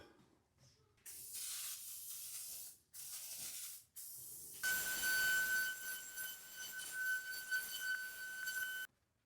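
WD-40 sprays in several hissing bursts onto a rusty table saw top, with short gaps between them before a longer, louder continuous spray, close to the mic and with no talk.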